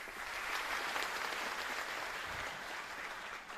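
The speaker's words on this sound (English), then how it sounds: "Ms. Jonjo, let's give a round of applause, please." Audience applause at an evening pageant season finale as a speaker comes up, a steady wash of many hands clapping that holds even throughout, moderately quiet and unbroken by speech.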